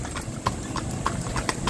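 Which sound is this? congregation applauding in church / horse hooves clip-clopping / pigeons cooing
horse hooves clip-clopping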